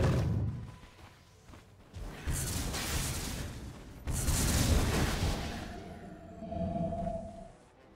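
Dota 2 tower under attack and collapsing: two heavy booming blasts with crumbling rumble and debris, each swelling and then decaying, followed by a fading low hum.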